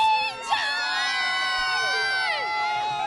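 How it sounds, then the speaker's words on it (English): Fans cheering for India at a T20 World Cup cricket match against South Africa, a loud sustained roar of voices with shouts and whoops rising over the crowd, continuous for several seconds. "Give me a loud cheer once again for India."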